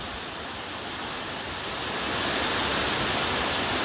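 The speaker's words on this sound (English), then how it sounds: "Shower hailstones." A shower of hailstones falls steadily, a dense, continuous hiss of pellets striking surfaces, growing slightly louder toward the end, with no voices.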